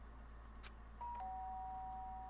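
A doorbell rings in the Danganronpa: Trigger Happy Havoc video game, giving a bright sustained electronic chime tone that starts partway in and holds to the end over a steady low background hum.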